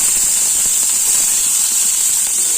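Green chillies and onions sauté in hot oil in a kadai, giving a loud, steady, hissing sizzle that runs unbroken throughout with no voices.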